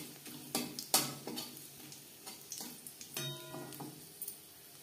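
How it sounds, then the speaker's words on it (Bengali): Broken dried red chillies, three or four of them, hit hot oil left from frying fish heads for masoor dal, giving close crackling sizzles and a few sharp spits and clinks of a pan and spoon at uneven intervals. "মাছের মাথা ভেজে নেওয়া তেলে দিয়ে দেবো 3-4টে শুকনো লঙ্কা"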